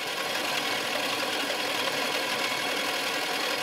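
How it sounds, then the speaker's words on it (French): A solar-synergy motor built in a workshop drives a multipurpose grinder, giving a steady, dense mechanical hum and whir that holds constant and loud for several seconds with no talk. "Ici, le moteur est utilisé pour le fonctionnement de ce broyeur polyvalent."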